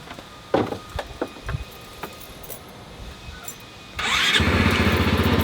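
A Honda SH150i scooter engine fires up after a few scattered mechanical clicks and knocks, then settles into a steady, close idle.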